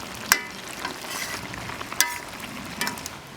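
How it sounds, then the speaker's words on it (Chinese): Bean sprouts simmering in a pot of Chinese pickled-cabbage fish stew made with grass carp, with a soft bubbling hiss and a few sharp clinks of a utensil against the pot, no talking. "这个豆芽放到下面去煮一下"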